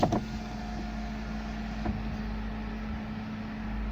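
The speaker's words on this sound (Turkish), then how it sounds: "Arabanın fanı da devreye girdi." An overheating car's engine cooling fan runs with a steady low hum and whir, heard through an open window, with a couple of brief clicks at the start and no talking.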